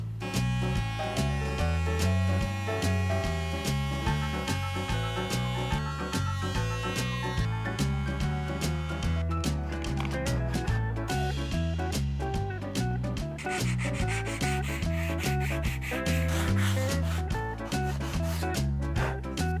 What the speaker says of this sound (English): I'm gonna start slowly with the multi-tool to just kind of have control where I'm sanding